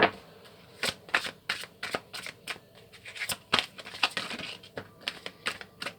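A deck of oracle cards being shuffled by hand, a close series of sharp riffling snaps and flutters in irregular bursts, clear and alone with no voice.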